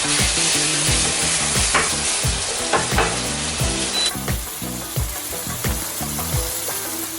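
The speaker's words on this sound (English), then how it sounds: "Once the pan is hot and ready, we can drop the minced beef. I'm gonna cook my beef till it becomes golden brown in color." Minced beef fries in a hot pan for a beef lasagna, giving a loud, continuous sizzle broken by repeated scraping and stirring knocks, with no talking.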